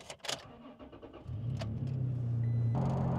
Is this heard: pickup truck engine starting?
yes